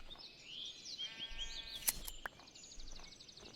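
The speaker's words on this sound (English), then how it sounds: "I hear a sheep." A Minecraft sheep bleats once, a wavering nasal call, over faint background ambience with a couple of soft clicks nearby.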